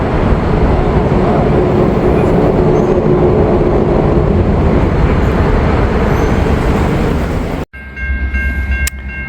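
Norfolk Southern 142 freight led by a Delaware and Hudson locomotive passes close by at Seven Mile, Ohio, with a loud, steady rail rumble and wheel roar that cuts off abruptly near the end.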